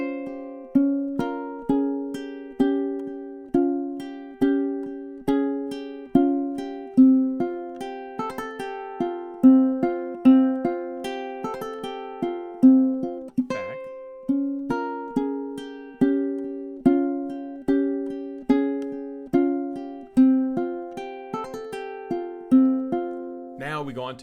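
Ukulele playing measures 14 to 17 of Deck the Halls: a bright, plucked melody with steady, evenly spaced notes over light chords, close and clear, played alone without speech.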